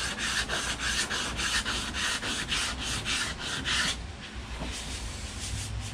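Sanding block rubbed in rapid back-and-forth strokes over the primed corner of a power catamaran boat hull, a close, steady rasping scrub that keeps a quick rhythm for about four seconds before easing off.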